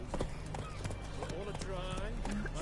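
Roach, a horse in The Witcher 3 game, trots with steady, near clip-clop hoofbeats, heard under someone talking and game music.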